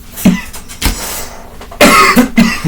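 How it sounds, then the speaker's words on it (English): Several harsh coughs burst out close to the microphone, a couple early and a heavier fit near the end, with short pauses between. "that makes me want to cough"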